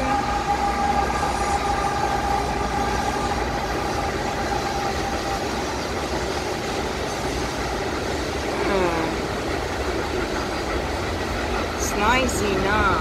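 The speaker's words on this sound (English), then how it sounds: "It's a long, long train." A long train rolls past steadily with continuous rumbling and clattering of rail cars, plus squealing metallic tones near the end, while a person talks over it.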